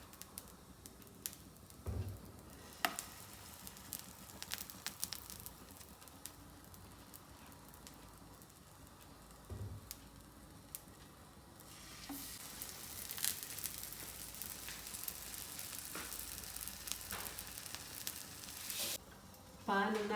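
Apple pancake batter sizzles in a lightly oiled pan, a soft steady crackle that grows louder and more intense midway, with occasional clicks and clatters of utensils.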